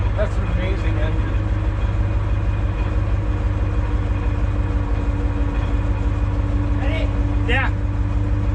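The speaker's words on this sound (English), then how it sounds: "Oh, that's an amazing engine." A Wabco 101F grader's engine idles with a steady low, even rumble throughout, close to the microphone, with brief voices rising over it near the end.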